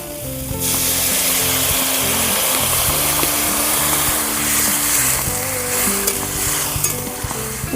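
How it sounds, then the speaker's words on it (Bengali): Lightly fried drumstick (moringa) pieces sizzle steadily and loudly in a pan, with a dense, continuous frying hiss running throughout, set in a village-style mustard-paste chorchori preparation. "সজনে ডাঁটাগুলো হালকা করে ভেজে নিয়েছি এবার দিয়ে দেব আমি পরিমাণ মতো জল"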